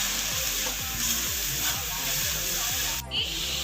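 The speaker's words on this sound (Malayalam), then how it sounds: "നമ്മുടെ സവാള ഒന്ന് പെട്ടെന്ന് വഴന്നു വരാൻ വേണ്ടിയിട്ടാണ് ഉപ്പ് ആഡ് ചെയ്യുന്നത്" Sliced onions sautéing with salt in a pan, a steady close sizzle and hiss running throughout with repeated scraping stir strokes in a regular rhythm, and a brief dip in the frying noise near the end.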